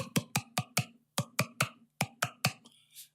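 A voice-and-hand imitation of a drum solo: a hand clapped against the face and mouth produces a dozen sharp, snappy hits in quick rhythmic groups of four, close and crisp, ending with a softer breathy puff.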